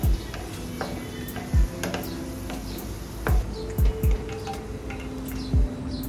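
Peanuts and chopped onion frying in hot oil, a steady crackling sizzle with sharp periodic clicks of stirring against the pan, close and with no one talking.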